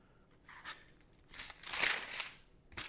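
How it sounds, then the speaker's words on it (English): A knife cuts through a pork loin, producing a few close, crisp slicing swishes that swell and fade across the moment, with no talking. "I'm just gonna cut this baby in half."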